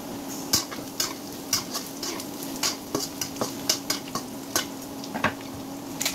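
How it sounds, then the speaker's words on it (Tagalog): Preserved meat is stirred in a pan for miswa, a quick run of close metallic scrapes and taps over a low, steady sizzle, with no talking. "Binalik ko yung ating preserved meat. Haluin natin."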